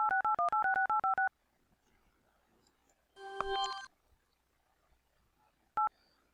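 Rapid run of telephone dialing tones, about a dozen crisp beeps in quick succession, followed by a harsh connection burst and a single later beep, from the hacking game Onlink, fairly loud over near silence.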